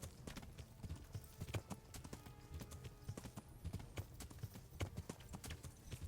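Horse hooves gallop in the video game Kingdom Come: Deliverance, a fast, steady clip-clop beat that runs throughout at a moderate distance.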